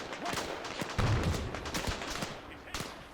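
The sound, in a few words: gunfire from an enemy in a Second Korean War video game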